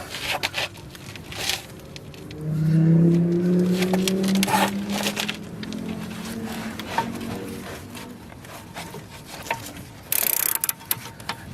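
Ratchet spanner working on the front roll bar drop link of a 2007 Vauxhall Astra, with a faint clicking mechanism amid workshop noise and a low droning hum through the middle, no talk.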